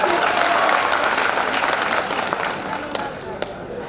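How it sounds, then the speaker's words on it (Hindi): A crowd at Bihar's first state-level paramedical conference, with the state health minister present, breaks into dense, loud applause that holds steady and then gradually thins toward the end. "एक बार फिर जोरदार ताली करें।"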